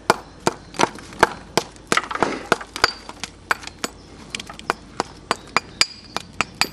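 Old glazed Victorian reclaimed bricks are chipped clean with a hand tool, giving a steady run of sharp, close clinking taps about two to three per second, each one crisp and bright.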